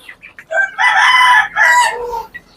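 A desi hill rooster crows loudly and close by, one long drawn-out call broken into a few strained segments, with short clucks around it and no voices.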